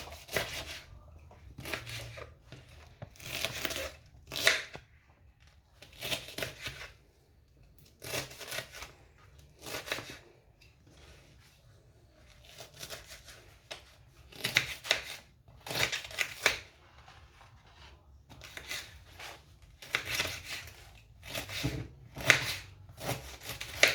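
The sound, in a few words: chopping ingredients into smaller pieces for a drink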